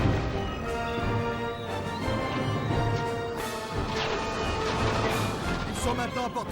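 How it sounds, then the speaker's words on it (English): Cannon fire from the Napoleon Total War video game booms in heavy, repeated crashing blasts over a dense battle din, with a voice talking through part of it. "by firing your cannons at them"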